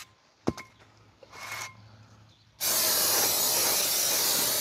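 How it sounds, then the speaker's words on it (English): Brake cleaner sprays onto the rear brake rotor of a 2015 Chevy Equinox in a loud, steady hiss that starts suddenly after a few quiet clicks and handling noises, then holds continuously. "I'm going to spray this down"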